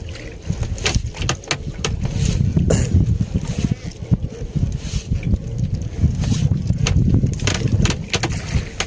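Cold wind buffets a small fishing boat out at sea, a steady low rumble of gusts and microphone wind noise that runs continuously and fairly loud throughout.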